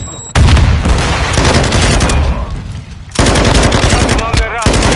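Gunfire and grenade explosions in the shooter game Call of Duty MWII: dense, loud machine-gun bursts and booms almost throughout, with a brief lull before another heavy burst of fire, and voices shouting over the battle.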